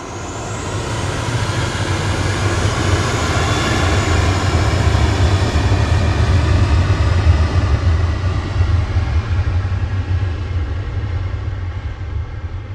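A Jet2 Boeing 737-800, registration G-JZBR, departs Manchester Airport for Rome, its engines a loud, sustained roar that builds and holds close by, then slowly tapers.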